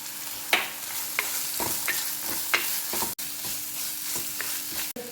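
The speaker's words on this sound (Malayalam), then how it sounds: "ചെറിയ ഉള്ളി ഇടാം. അതൊന്ന് നന്നായിട്ട് വഴറ്റാം." Shallots, crushed ginger and garlic sautéing in a hot pan give a steady close sizzle, broken by several sharp scraping stirs of a spoon against the pan and a couple of brief clicks.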